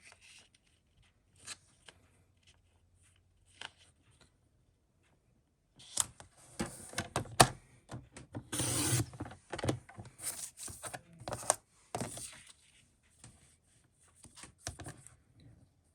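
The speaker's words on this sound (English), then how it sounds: "I'm going to cut off 1/8 inch here" Scissors or a paper trimmer cut card stock in short bursts of snipping and slicing, close and fairly quiet, with sparse clicks before a busier stretch of cutting sounds.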